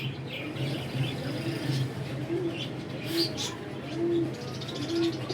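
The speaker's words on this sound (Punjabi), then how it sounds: "ਇਹ ਸਿਆਲਕੋਟੀ ਕਾਲੇ ਮੂੰਹ ਵਾਲੇ ਕਬੂਤਰਾਂ ਚੋਂ ਹੈ" A Sialkoti black-faced pigeon coos close by in a series of short, low, rolling calls at roughly one-second intervals, with chirps and faint background noise around it.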